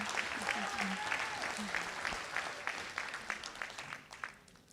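Audience applause at a long service awards ceremony in Jamaica, a fairly quiet patter of clapping hands that thins toward the end, with faint voices underneath.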